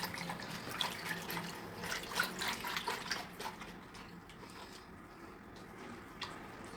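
Water poured into a flour mixture for lahmacun dough, a moderate splashing trickle with uneven bursts that tapers off toward the end.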